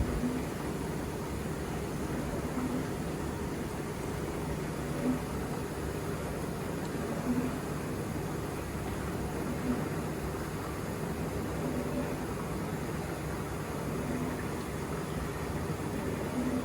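A 1980s Vulcan Dishlex 500E dishwasher fills with water, a steady hissing rush at low level with faint periodic ticks, continuous and unchanging throughout.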